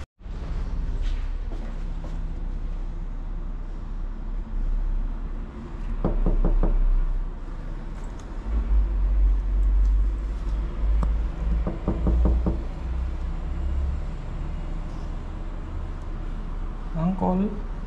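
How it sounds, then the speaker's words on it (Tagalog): A hand knocks on a door in several short bursts of rapid raps, heard near against steady traffic and air-conditioner hum, with someone talking throughout. "katok ako ng katok. Hindi ko alam meron nga palang doorbell yan"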